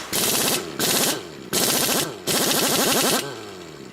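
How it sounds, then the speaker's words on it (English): An impact wrench tightens the alternator pulley on a Dodge Caliber in four loud, close, rapid hammering bursts of under a second each, separated by short pauses. "So we'll hit it with that impact wrench, and then that should take care of that."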